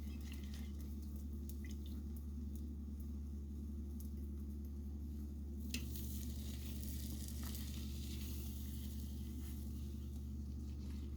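Four Monte Cristo French toast breakfast sandwiches frying together in one pan, giving a steady, low sizzle over a constant background hum throughout, with no voices.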